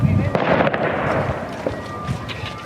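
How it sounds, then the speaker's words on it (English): A burst of sharp gunshots cracks out at the start, followed by scattered distant pops over a rumbling crowd murmur. "They barely flinch as the gunshots ring out around them."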